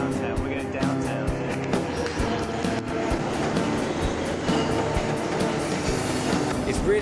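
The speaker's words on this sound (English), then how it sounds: "we're going to ride the subway" A New York subway train rides along with a loud, continuous rumble, rhythmic clacks and squeals over the tracks, and brief sharp knocks, with some talk mixed in.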